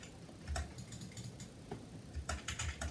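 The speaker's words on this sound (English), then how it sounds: "why can't I type?" Fingers type on a computer keyboard, giving an irregular run of light, close key clicks over a steady low background hum.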